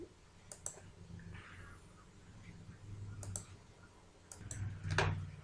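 Computer keyboard typing while a PAN card form is filled in: faint, scattered clicks in small clusters with pauses between them, set over a low room hum and quiet background noise.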